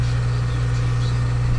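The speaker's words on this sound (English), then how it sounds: "So until I touch the throttle, it'll idle." A John Deere forwarder's engine idles steadily and close by, a constant low hum with a strong deep drone that holds level throughout without any change in speed.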